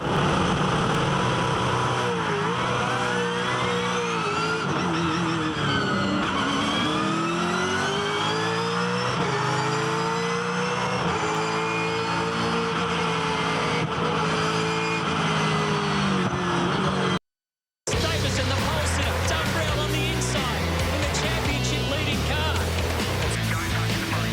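V8 Supercar race cars at the 2012 Gold Coast 600 roar loudly into turn one, engines revving with rising and falling pitch sweeps as cars pass, continuous and close, with a brief cut before more engine noise resumes.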